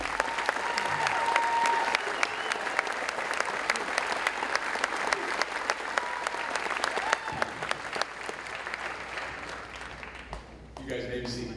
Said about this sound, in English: Let's have one more round of applause for these students.